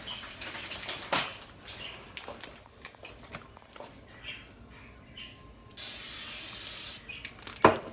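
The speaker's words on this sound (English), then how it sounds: "A little olive oil spray." Olive oil cooking spray hisses onto a baking dish in one steady burst of about a second, amid faint kitchen clatter and a sharp knock or two.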